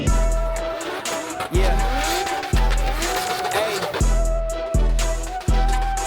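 Drifting cars at the opening of A1 Motor Park circuit send out repeated engine roars and rising revs with sustained tire squeal, loud and close, with several surges over about six seconds.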